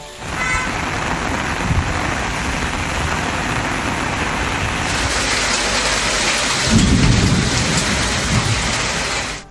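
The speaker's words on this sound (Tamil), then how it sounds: "உள்ளிட்ட பகுதிகளில் நேற்று இரவு கனமழை கொட்டியது" Heavy overnight rain pours steadily over the Karaikudi and Kalaiyarkovil area of Tamil Nadu, a dense continuous roar, with a deep roll of thunder swelling up near the end.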